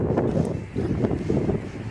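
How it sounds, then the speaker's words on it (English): Strong wind gusts through a canyon, a dense, loud rushing buffet on the microphone with brief dips between gusts, with no talking. "So freaking windy,"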